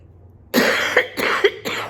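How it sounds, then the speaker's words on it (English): A few harsh coughs in quick succession, close and loud, with short gaps between bursts and no talking. "I need a cough."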